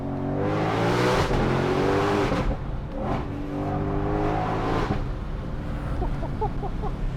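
A Ford Mustang Shelby GT500 Heritage Edition engine revs hard on a track, rising through high-rpm pulls with downshifts close to redline. The loud, close engine note swells and drops repeatedly with brief gaps between gears.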